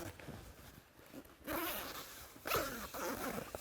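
Zipper being pulled closed along the door of an inflatable air tent, two quick ripping zips about a second apart, close and crisp, with no talk during them.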